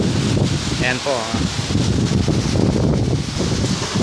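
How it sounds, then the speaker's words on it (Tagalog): Loud, steady roar of wind with heavy rain noise throughout, close to the microphone; someone speaks briefly over it. "napakalakas po ng hangin sa kaulan"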